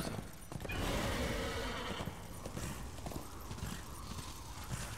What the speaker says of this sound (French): On a notre cheval de guerre, littéralement cheval de guerre.